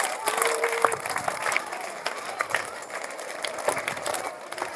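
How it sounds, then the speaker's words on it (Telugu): An audience claps at a school annual day at a municipal high school on Kadiri Hindupur Road, a patter of many hands in a hall with scattered voices mixed in. The applause is loudest at first, then thins out. "వాళ్ళందరికీ కూడా ఒకసారి బిగ్ క్లాప్స్ ఇవ్వండి వాళ్ళిద్దరికి."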